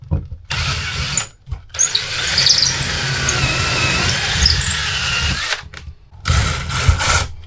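A power driver runs screws into a kitchen end panel in a 25-year-old motorhome, with several loud whirring bursts of a few seconds each, separated by short silences, close up and with no talk.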